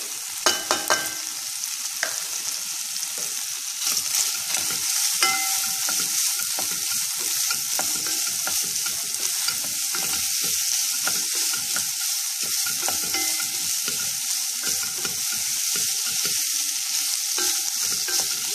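Onion fries with lardons in a pan over medium heat, giving a constant close crackling sizzle with scattered pops and the scrape of stirring.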